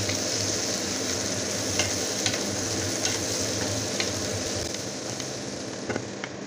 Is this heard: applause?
no